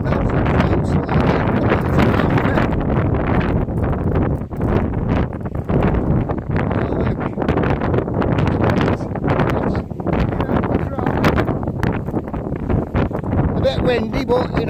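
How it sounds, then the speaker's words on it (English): Strong wind on the beach at Skegness buffets the microphone in a steady, loud roar that barely lets up, with faint rustling and movement underneath. "Windy, but you know, I can't help that."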